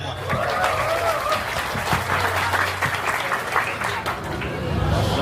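A crowd applauds steadily and loudly, with a murmur of voices and chatter mixed into the clapping.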